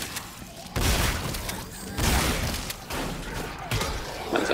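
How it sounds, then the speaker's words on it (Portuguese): Bursts of gunfire and heavy impacts while shooting monsters in the video game The Callisto Protocol, a loud shot or blast roughly every second with crashing debris, no talking. "Encher todo mundo de tiro aí também, esses monstros feiosos."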